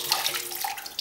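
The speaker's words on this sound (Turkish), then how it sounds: "Öncelikle kabağımızı yıkamaya başlayalım." A zucchini washed under running tap water in a kitchen, a close, steady splash and trickle with a few brighter spatters.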